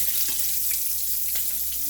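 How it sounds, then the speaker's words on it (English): Crab legs dropped into hot grease, frying with a steady, bright, hissing sizzle that holds even and loud throughout, with faint crackles and pops and no talking. "But I'm going to drop them in some hot grease tonight."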